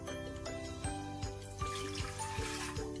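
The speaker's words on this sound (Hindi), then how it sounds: "तो सबसे पहले मैं ये पानी डाल दूँगी।" Water poured from a vessel into a clay pot holding mutton for curry, a steady close trickle and splash running through the whole stretch with faint clinks, no voices.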